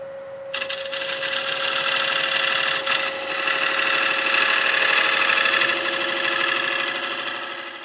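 A wood lathe spins a wild cherry bowl at about 760 RPM, giving a steady close hum with a whirring tonal drone that swells and holds throughout, with no voices.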